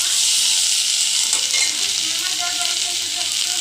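Small fish frying with spices in a pan, a steady, loud hiss of sizzling oil filling the whole stretch with faint stirring scrapes underneath.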